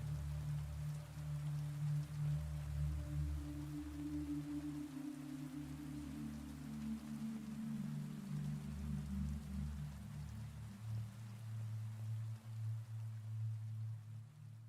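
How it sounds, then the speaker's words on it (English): Steady rain drums against an attic window, a soft continuous patter with a low rumbling wash beneath it, faint and unbroken throughout with no voices. "The rain lashed against the attic window, a relentless drumming that mirrored the anxiety building within me"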